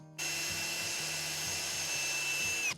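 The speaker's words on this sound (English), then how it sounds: "First, I'm going to drill some pilot holes." A power drill bores pilot holes through plywood for a container house repair, a steady loud whine running continuously for a few seconds with faint low rhythmic thumps beneath.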